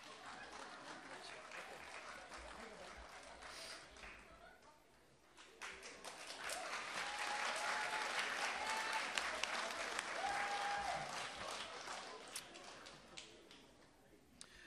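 At a spelling bee, the audience starts with soft clapping that swells into fuller, sustained applause around the middle before tapering slightly. The clapping stays moderately distant in a quiet room, with faint voices underneath.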